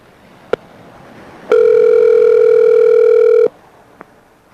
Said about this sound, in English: it's like the phone's going to be ringing